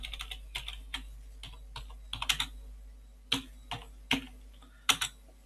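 Keystrokes on a computer keyboard while a git command is entered, a sparse, uneven run of crisp clicks with short pauses between bursts, close to the microphone and with no talking.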